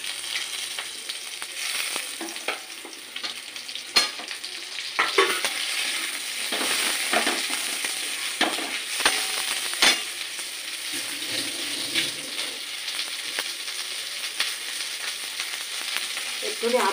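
Tomatoes hit hot oil with garlic in a pan and fry in a steady close sizzle, with scattered clicks and scrapes of stirring throughout.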